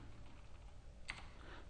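A single tab key press on a computer keyboard gives one crisp, close click amid quiet room tone.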